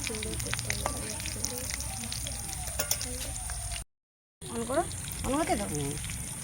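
Battered prawn pakora for a Chinese-style shrimp fry sizzles steadily in hot oil, a constant close crackle with bubbling bursts, broken by a short silent gap, while someone talks over it.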